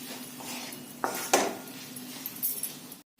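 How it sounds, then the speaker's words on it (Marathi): A spoon clinks and scrapes against a pot while vegetables and spices are stirred together for dal khichdi, a few sharp metallic taps among softer scraping, close by, then silence at the end. "सर्व मिश्रण छान एकत्र करायचं मसाल्यासोबत भाज्या थोड्या वेळ परतून घ्यायचं"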